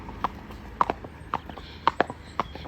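A horse out hacking walks with a steady clip-clop of hooves on a hard surface, the footfalls close and crisp in a regular uneven rhythm, with no other sounds.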